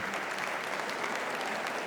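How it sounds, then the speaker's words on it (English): Steady, dense applause from a festival audience honoring a panel of men, a sustained wash of many hands clapping at moderate distance with no break. "give these gentlemen a round of applause"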